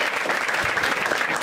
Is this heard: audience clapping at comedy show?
yes